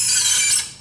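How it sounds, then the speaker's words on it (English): Cheater wrench cranked on a trailer wheel, giving a loud, close metallic ratcheting whir that holds steady and then tapers off. "until I get to where it's hard, and then I'll use my cheater wrench again"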